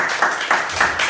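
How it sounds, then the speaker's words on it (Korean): A brief burst of rhythmic clapping during a church sermon, about four even claps close by. "박수."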